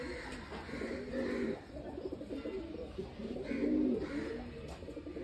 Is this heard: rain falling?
no